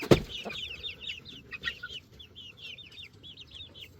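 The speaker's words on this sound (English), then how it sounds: "Look at this chicken." Chickens cluck and chirp in a pen, with a run of quick soft clucks and peeps close by after a sharp knock at the start, moderately quiet throughout.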